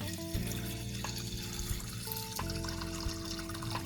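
Water runs into a soup pot for homemade fish soup, a steady close trickle and splash with gentle metallic resonance from the pot, heard alone without speech.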